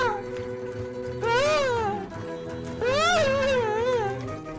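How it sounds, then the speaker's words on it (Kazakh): A yellow cat lets out two long, rising-and-falling wailing meows a second or so apart, close and fairly loud over low background noise. "Мышық!"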